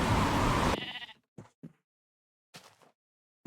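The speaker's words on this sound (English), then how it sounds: "We finally kill a sheep" Sheep bleating in the Minecraft video game: one loud bleat followed by a few shorter, fainter bleats and clicks separated by silent gaps, with no talking.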